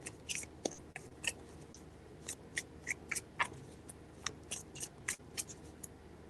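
Tarot cards shuffled by hand in a series of crisp, papery riffles and slaps at close range, with short bursts spaced irregularly over a quiet room background.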